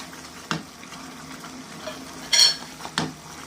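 Pumpkin halwa sizzles gently in a pan while a spoon stirs and scrapes it, with three sharp scraping strokes standing out over the soft continuous frying hiss, close up and without talking.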